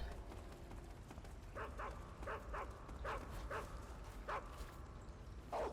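Repeated barks from a pursuing guard dog in Metal Gear Solid 3: Snake Eater, short yelping bursts coming in rapid pairs and singles over about five seconds, moderately loud above a dense, steady game-ambience wash.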